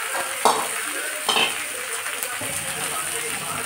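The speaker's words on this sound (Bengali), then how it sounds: "মশলাটা ঢাকা দিয়ে দিয়ে কষিয়ে নেব।" Spice paste of ground turmeric and garlic fries in a pan with a steady, close sizzle, broken by two sharp clinks of a spoon stirring against the metal near the start.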